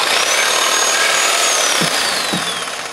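Drill boring through a hot pink baseball bat, a steady loud grinding whine with bit friction and a couple of low knocks near the end, continuous and close.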